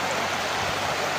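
River water rushes steadily at a crossing point near Kodaikanal, a dense, even wash of flowing water heard close and without break.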